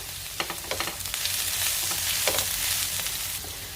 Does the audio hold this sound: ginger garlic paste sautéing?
yes